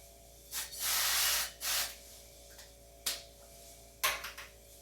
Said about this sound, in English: I'm going to put a little aerosol avocado oil in the pan so it's not too much